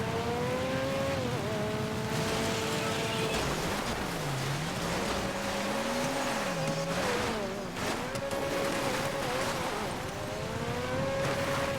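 A car drives in GTA Online, its engine droning and rising and falling in pitch with a tire squeal and rain-like hiss, steady and fairly close throughout.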